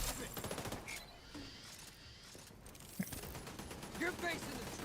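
Automated turrets fire in a Division 2 shooter game, rapid bursts of gunfire crackling through a noisy battle scene, with game voices and a player talking over it.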